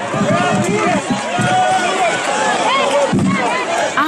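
A gathered crowd boos and jeers a Golden Dawn member of parliament at a 25 March event, a loud, sustained wash of many shouting voices, with scuffling movement and no pauses.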